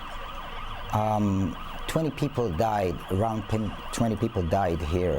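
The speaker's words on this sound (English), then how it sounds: "What you hear is the alarm of all the stores that had their alarm getting, being triggered by the blast." Shop burglar alarms wail together along a Jerusalem street after a bomb blast, rising and falling in loud overlapping whoops while someone talks over them.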